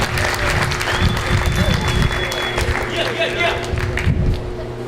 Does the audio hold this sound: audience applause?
yes